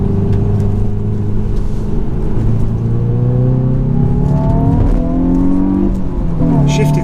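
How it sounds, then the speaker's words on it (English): A Hyundai i20N on Pirelli tyres drones loudly from inside the cabin, with engine pitch climbing steadily through the revs, then a quick auto-blip rev-match as it downshifts near the end. "did you hear that auto blip?"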